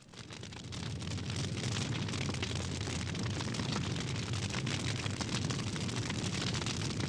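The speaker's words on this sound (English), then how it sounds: "The little fire touched gasoline and bloomed." Gasoline catching fire in a visual novel game: a sudden swell into a loud, steady roaring whoosh that holds without a break, with no voices.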